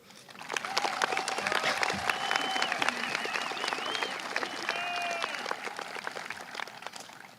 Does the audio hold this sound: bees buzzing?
no